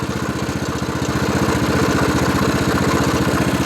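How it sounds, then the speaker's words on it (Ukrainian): A Loncin LC-750 walk-behind tractor's small single-cylinder engine idles steadily up close, its rapid even putter loud and continuous with no voices. "Дивіться, послухайте, як працює двигун."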